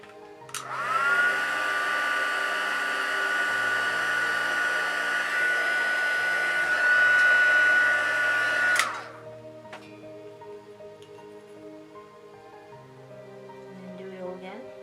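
A heat tool blows steadily for about eight seconds to heat set creases in a craft piece, a loud even whoosh that cuts off abruptly and leaves quieter background sound.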